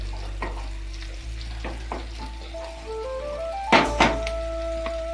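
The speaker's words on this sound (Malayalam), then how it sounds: "ഇനി കുറച്ച് തക്കാളി ഇട്ട് വാട്ടണം" Tomatoes sautéing with softened onions for a crab curry, a soft continuous sizzle with stirring taps, a low hum underneath, a faint melodic tone and two louder knocks near the end.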